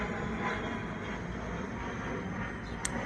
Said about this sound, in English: Let's wait for this airplane.